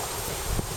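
Gusty wind buffeting a microphone at a windy campsite on Mount Kosciuszko, a steady broadband roar with a slightly stronger gust near the end, no talk.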